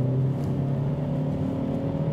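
A Hyundai i30 Kombi mild hybrid pulls away under throttle in normal drive mode, its engine droning steadily from inside the cabin at moderate volume, with no talking over it.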